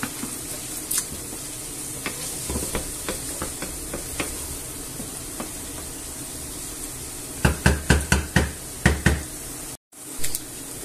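Hotdog sausages fry in a pan in a steady close hiss, with a run of sharp knocks and scrapes as they are stirred and pushed about, growing louder toward the end.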